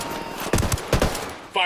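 Gunfire in the video game Ghost Recon Wildlands: a few loud, close shots in quick bursts, with game sounds in the background.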